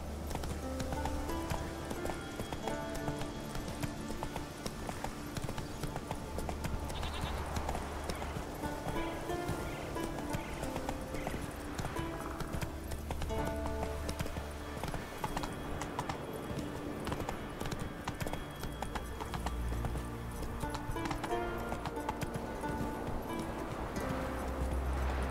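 A horse gallops in The Witcher 3: Wild Hunt, its hooves beating a steady, rapid clip-clop rhythm throughout, with occasional game sounds layered over the hoofbeats.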